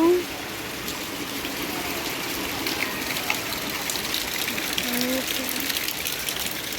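Heavy rain pours down with running water, a steady, dense hiss and rush that continues evenly throughout with no break.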